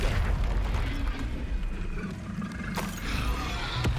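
Spell explosions from Bombarda and Confringo casts in Hogwarts Legacy, heard as a dense, rumbling wash of booming blasts with a couple of sharp cracking hits, loud and continuous with no talk.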